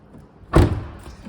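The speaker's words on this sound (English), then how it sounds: "Opening the rear doors, you have good access again into the back" A single solid thud from the door of a Honda Jazz Hybrid car, a close, loud clunk with brief rattle afterward, heard alone without talk.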